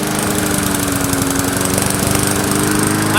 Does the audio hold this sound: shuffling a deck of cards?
no